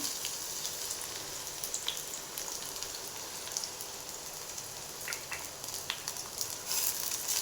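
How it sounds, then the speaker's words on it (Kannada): Sliced medium onions frying in hot oil give a steady, dense crackling sizzle with fine popping spatter, continuous and close throughout with no talking. "ಈ ಥರ ಚೆನ್ನಾಗಿ ಫ್ರೈ ಆಗಬೇಕು ಈರುಳ್ಳಿ"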